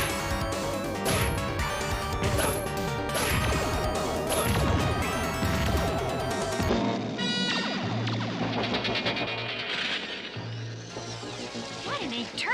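Cartoonish Filmation He-Man smash and crash effects in the Wii game Castlevania: The Adventure ReBirth burst over dense, busy music, with hits and whooshes piling up before the texture thins to a humming drone and zaps.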